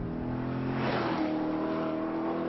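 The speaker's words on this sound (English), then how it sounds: "Roll onto the throttle on that exit, and there is just grip for days." A 2017 Chevrolet Corvette coupe engine pulls hard under throttle, a steady loud drone with rising harmonic tones and a surge of roar partway through, heard alone without talk.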